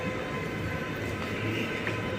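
Steady hum of an Indian railway station's local-train booking office, with a continuous low rumble and faint indistinct activity, no clear voices, a constant busy ambience throughout.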